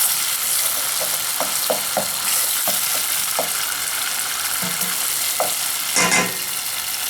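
Tomato paste frying in a pot while being cooked down for jollof rice, a steady close sizzle throughout with occasional scraping stir clicks and a brief louder burst near the end.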